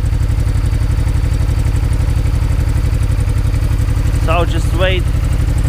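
A two-cylinder motorcycle engine idles in freezing cold while warming up, thick oil slowing it: a loud, steady low throb with an even pulsing beat throughout, and someone speaks briefly near the end.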